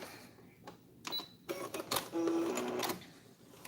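A home sewing machine stitches a cloth face mask, with short motor bursts and rattling clicks building into a steadier run near the end, close and fairly quiet.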